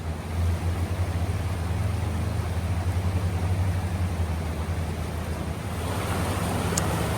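Steady broadband rush of water from the upper side of a waterfall at an Alabama state park, a constant roar close by with some low rumble and wind, no talking.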